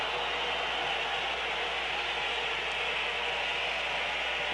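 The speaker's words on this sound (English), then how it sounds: "That's the whistles from the crowd." A football crowd at the Poland v England World Cup qualifier whistles in a continuous high, hissing wash of sound that stays steady and fairly loud throughout, with no commentary over it.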